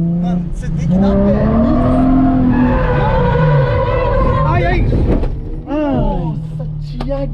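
Nissan 350Z revving hard with squealing tires, loud sustained engine roar and screeching skid running for several seconds, while people shout over it.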